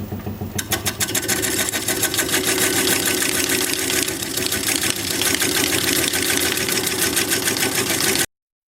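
A wood lathe spins at 410 RPM while a 5/8 inch standard grind bowl gouge cuts a large bowl, giving a steady, loud, continuous buzzing whir with a dense rattling texture that runs unbroken for about eight seconds before stopping abruptly.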